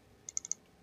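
A computer mouse is double-clicked in SPSS statistics software, giving two pairs of sharp, close clicks in under a second against a quiet room.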